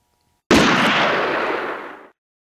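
A single loud gunshot fired in a duel, a sharp blast close by with a long decaying roar that fades out over about a second and a half, heard alone.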